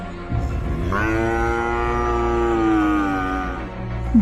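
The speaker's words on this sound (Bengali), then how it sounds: "বাঁধা গরুগুলো বাঘটাকে দেখে ভয়ে জোরে জোরে ডাকতে থাকে।" A tethered cow, frightened by a nearby tiger, lets out a long, loud, strained moo that holds for several seconds, close by, with low rumbling background noise.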